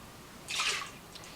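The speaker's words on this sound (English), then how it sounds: "Now I'm going to give this a rinse." Water splashes briefly as a wine glass is rinsed, a short soft swish of liquid over a faint background hiss, quiet and close.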